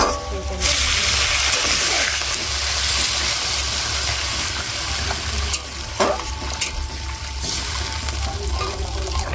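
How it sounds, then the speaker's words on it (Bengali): Water is poured into a pan of masala and fried potatoes for a Bengali pangas fish curry, setting off a strong, steady sizzle with stirring scrapes and splashes throughout, close by and loud. "এবারে আমি এটা একটু জল দিয়ে দিব, কারণ তলায় লেগে যাচ্ছে"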